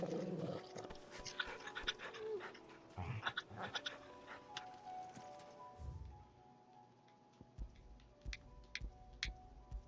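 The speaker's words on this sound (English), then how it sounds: "Pet the dog." A dog panting while being petted in the video game Final Fantasy XVI, quick rhythmic breaths close up, mixed with soft game sounds and ticking, no talking.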